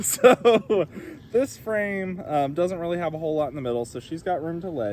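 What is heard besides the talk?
No everyday noise stands out behind the speech.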